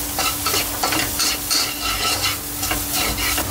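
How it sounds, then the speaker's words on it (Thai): Chili and golden garlic stir-fry in a pan for salt-and-chili pork belly, with close, rhythmic scraping strokes of a spatula over a steady sizzle. "เราก็จะคั่วกันครับ"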